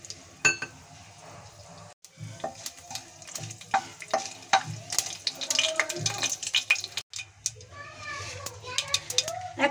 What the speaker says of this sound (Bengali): এখন আমি ফোড়ন দিয়ে দিচ্ছি।